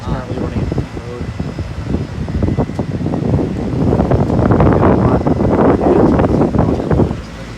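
A 1989 Carrier Tech2000 heat pump runs in heat mode, its fan blowing a steady whooshing roar that swells louder midway, with a person talking over it.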